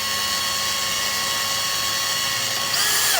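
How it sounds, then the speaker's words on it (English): A steady high-pitched drill whine runs continuously, its pitch shifting slightly near the end as the bit drills a small hole through a metal plug in a Ford FE engine block. "I'm going to drill a small hole"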